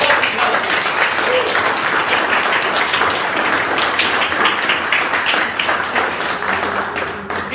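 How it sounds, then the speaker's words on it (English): Dense, loud applause from a live comedy show audience at a bar venue, sustained clapping with cheering mixed in for several seconds before easing slightly at the end. "Let's give her a round of applause for"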